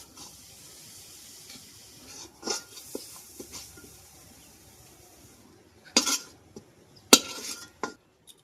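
Fried motichur boondi being scooped onto a plate in a home kitchen, with faint scraping and a few sharp metallic clinks of a utensil against the pan and plate, sparse and irregular over low background hiss.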